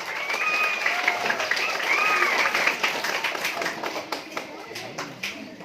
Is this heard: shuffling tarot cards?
no